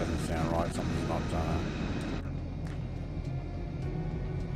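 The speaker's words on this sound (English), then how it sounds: "there's also another plane" A plane flies overhead along the highway between Darwin and Port Hedland, a steady broad drone with a whining tone early on. It stays continuous and moderately loud throughout.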